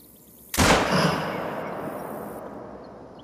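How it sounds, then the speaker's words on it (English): A single rifle shot fired at an elk in theHunter: Call of the Wild, a loud sharp crack followed by a long rolling echo that fades over a few seconds. "I'm gonna shoot this elk"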